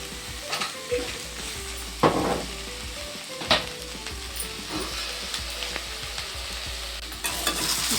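Sliced okra for palya fries in a pan with a continuous soft sizzle, punctuated by occasional clinks and scrapes of a spoon stirring against the metal.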